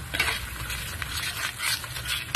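Spice paste for a mustard fish curry, seasoned with salt and a little sugar, is stirred in a hot pan, giving a soft, steady sizzle and scraping close by, with no talking.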